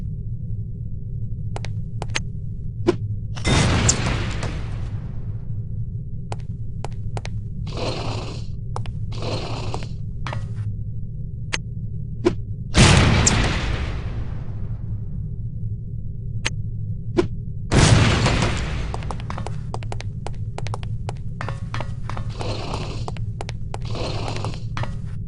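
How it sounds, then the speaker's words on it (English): Lipstick-shaped explosive devices detonate in the spy video game No One Lives Forever, making three separate sharp bursts with decaying tails over a constant low electronic hum, with scattered small mechanical clicks between them. "These relatively inconspicuous-looking lipsticks are actually powerful explosive devices that detonate on impact."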